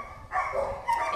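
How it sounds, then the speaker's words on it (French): Dogs bark at an animal shelter, two or three sharp barks close by within about a second, with no talking. "ça risque d'aboyer. D'ailleurs, vous entendez déjà."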